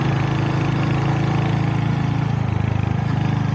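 A Royal Enfield Hunter 350 motorcycle engine running while riding through the hills outside Melbourne, a loud, close, steady single-cylinder thump with a rapid even pulse and no break.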